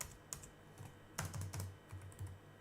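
Keys clatter on a computer keyboard in a short close burst of uneven taps, a few quick clusters of keystrokes with small pauses between them, with no voice.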